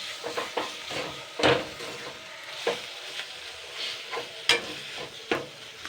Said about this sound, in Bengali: এবার এইটা দিয়েই কিন্তু নাড়াচাড়া করতে হবে মিনিট 4 ধরে।